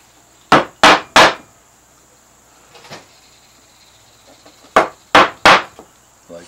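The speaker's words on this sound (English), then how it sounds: "I might even go to a third gouge to finish that off." Sharp gouge cuts into wood while carving strapwork, struck in two close groups of three crisp chops with a single softer knock between, loud and near with no talk.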